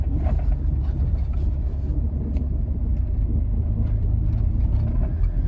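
An old Honda car coasts along the road, its low rumble of tires and drivetrain steady and close with no sharp engine revving.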